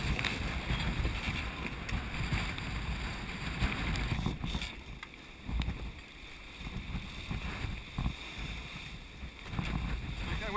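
Sailboat tacking during a race in wind, with steady wind and water rush against the hull, occasional bumps and flapping, and crew voices calling out throughout.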